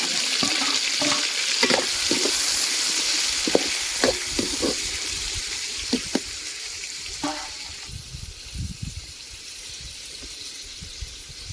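Onions fry in a pan for stingray fish curry (thirikkai meen kulambu). Loud sizzling is broken by quick stirring scrapes and clacks, and both fade into a quieter hiss toward the end. No one speaks.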